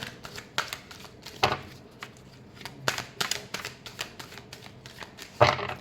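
Tarot cards are shuffled for a final time in a quiet room, giving a string of soft riffles and sharp flicks at an uneven rhythm, close by.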